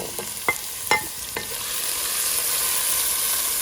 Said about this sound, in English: So I'm just going to fry for a couple of minutes, and then I'll add the onions in.